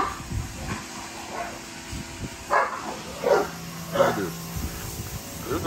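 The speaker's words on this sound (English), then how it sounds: "barking at other dogs because they ain't doing the water" A dog barks at other dogs near water: several short barks and yips at moderate distance over a steady hiss of outdoor background noise.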